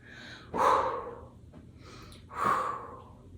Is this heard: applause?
no